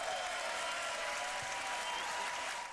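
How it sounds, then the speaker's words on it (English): Applause and cheering from a beatbox battle crowd fill the hall as a dense, steady wash of clapping with no break, loud and continuous. "Ladies and gentlemen, you can keep cheering for Rofu right now"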